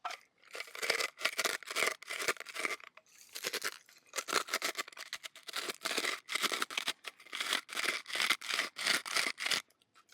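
Boilies and pellets are ground up by hand in short bursts of crunchy, rasping grinding, each burst a second or so long with brief pauses between, close and fairly quiet.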